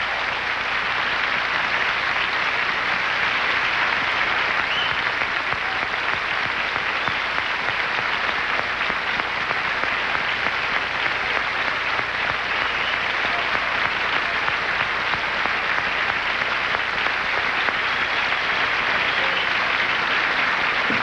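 A large telethon audience gives Paul Anka a sustained ovation, with dense, continuous clapping and cheering that stays loud and even from start to finish.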